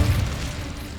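A fire spell cast in Hogwarts Legacy bursts out as a loud, low rumbling whoosh with a heavy boom at the start, then a steady roar that holds for about a second.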